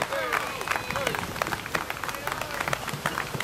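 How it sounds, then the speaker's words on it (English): Audience applause for a presenter from a fathers' rights coalition at a gathering, a steady wash of many hands clapping with scattered louder claps, moderately distant, with faint voices underneath. "How about a round of applause for Dan?"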